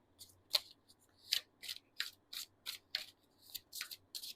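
Crisp, rhythmic riffling of tarot cards being shuffled up close, a dozen soft papery snaps at a steady pace against quiet background.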